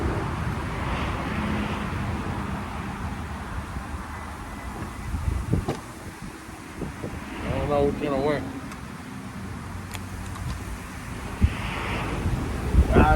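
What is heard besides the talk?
wind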